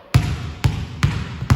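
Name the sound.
ball dribbled while tossing a tennis ball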